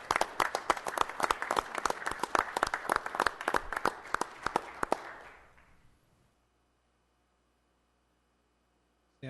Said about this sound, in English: So if you could recognize them with a round of applause